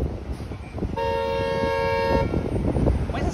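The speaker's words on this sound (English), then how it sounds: "What is this car honking for?" A car horn blares in one sustained honk lasting about a second, close by, over steady street traffic noise on St. Clair Avenue West in Toronto.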